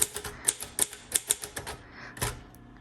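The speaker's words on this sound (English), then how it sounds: "Okay, let's go ahead and do some typing." A green crinkle-finish 1957 Royal Quiet Deluxe manual typewriter clacks through a quick run of sharp keystrokes at an uneven typing rhythm, close and clear, with a softer mechanical shift near the end.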